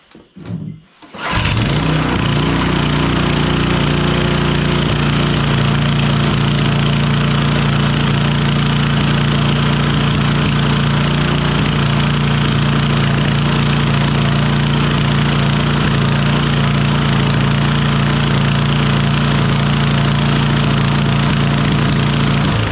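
Sears rototiller engine revved to full throttle, a steady loud droning roar with a rattling vibration that holds constant after a brief start-up.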